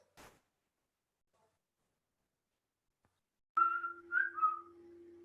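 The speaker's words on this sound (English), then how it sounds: "try and get a name for yourself, a whistle name for yourself" Whistle name whistled in the Whistling Village of Meghalaya, a short melodic whistled phrase over a long held tone after near silence, close and clear.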